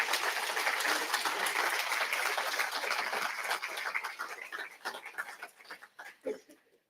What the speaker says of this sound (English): So perhaps we could give a round of applause to all of those,